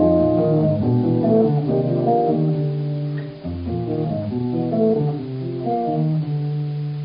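A jazz guitar plays a flowing melodic lick of connected, sustained notes, clear and fairly loud, with a brief dip in the middle.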